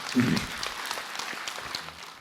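Audience applause at a Buddhist monk's lecture broadcast, a short burst of clapping from a seated crowd that swells at the start and tapers, with some talk over it.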